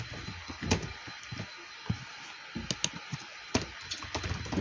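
Typing on a computer keyboard, a run of irregular close key clicks with a few louder taps, heard alone and fairly quiet.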